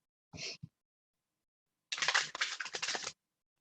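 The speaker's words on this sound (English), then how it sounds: "I'm gonna go ahead and shuffle the angel deck for you guys" A deck of angel oracle cards being shuffled by hand: a short riffle, a pause, then a longer burst of crisp papery flutter and slapping, close and alone with no talking.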